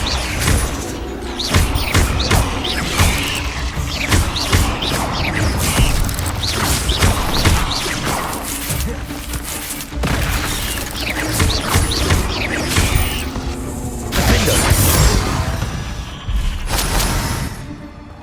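Relentless spell combat in Hogwarts Legacy, with loud repeated crashes, thuds and clanking impacts in rapid irregular bursts, blasts layered over one another almost without pause throughout.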